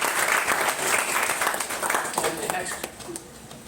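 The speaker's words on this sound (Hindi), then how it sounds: "ताली बजाइए अपने लिए" Seminar audience applauding, a dense burst of clapping that fades toward the end, with voices mixed in over it.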